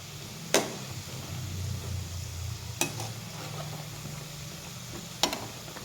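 Pieces of flour 'pal cake' fry in hot oil with a continuous close sizzle, broken by three sharp clicks of a utensil stirring and turning them; no talking.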